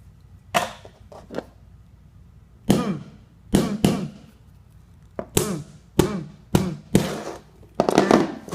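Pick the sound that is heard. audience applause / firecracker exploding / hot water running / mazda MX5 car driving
firecracker exploding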